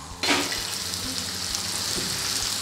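Raw mango pieces with jaggery hit a hot spiced tempering and burst into a loud, close sizzle. The frying then settles into a steady hiss with faint stirring sounds.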